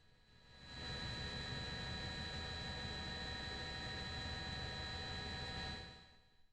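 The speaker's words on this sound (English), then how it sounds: "all that is that you can hear is just the chopper" A news helicopter flying overhead during protest coverage in Charlotte, a steady broadband rotor and engine roar that swells in, holds loudly for several seconds, then fades, with no voices.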